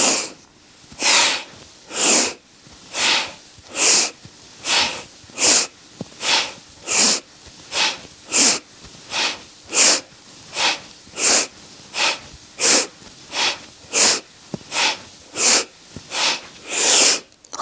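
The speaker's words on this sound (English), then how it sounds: "This is the Bhastrika breath, so it's a strong inhale" Bhastrika yoga breathing: a steady, rhythmic series of about twenty strong, forceful nasal breaths, each inhale and forced exhale loud and close, evenly paced with no talking.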